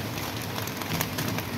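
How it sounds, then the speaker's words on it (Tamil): Heavy rain pours down outside a kitchen, a steady, dense wash of hiss and patter that continues without a break and without any voices. "சூப்பராக மழை பெய்யுது."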